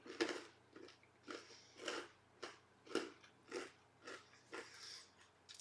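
Close, crunchy chewing of panzanella bread salad with crouton-like bread in a steady rhythm, about ten bites in a row, each one a crisp crackling crunch with no talking.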